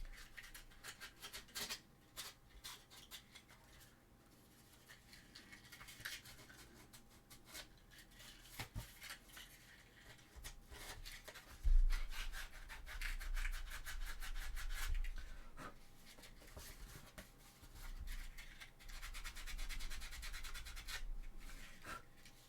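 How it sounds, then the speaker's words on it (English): Sanding a cosplay chainsword prop to straighten it, a steady dry rubbing scrape repeated in quick strokes close by, growing louder and more forceful in the second half. "I will have to sand that a little bit straighter."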